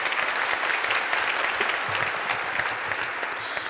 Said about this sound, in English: Let's have a round of applause for Dan, everyone.